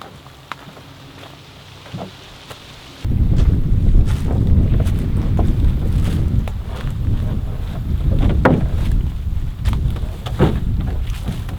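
Wind blowing while paddling a Swift Adirondack Pack canoe on open water, a loud, steady rushing roar of gusts buffeting the microphone that surges in after a quieter start, with faint splashes and knocks underneath.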